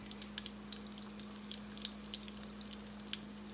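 Crawfish corn fritters frying in hot grease give a soft, steady crackle of small pops and spits, fairly faint and close, over a constant low electrical hum, with no talking.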